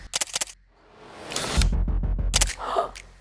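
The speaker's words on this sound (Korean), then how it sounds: "셔터 소리." A camera shutter clicks: a rapid run of sharp, close mechanical clicks, then a broader whirring rush and another quick burst of clicks.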